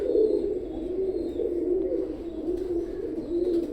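A 128-number Teddy breed pigeon, a new adult, coos in low, rolling murmurs, repeating steadily at close range, with faint chirps in the background.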